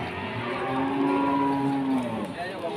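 A Limousin cow gives a long, low moo close by, drawn out over a couple of seconds against the noisy outdoor background of a livestock market in Pati, Indonesia.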